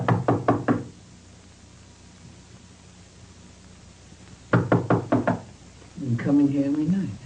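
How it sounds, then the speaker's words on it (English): Knocking on a door in a black-and-white film scene: a quick run of four raps, then a pause, another burst of four or five raps, followed by a voice speaking. "knock on the door of Chan's neighbor looking for the missing Chan"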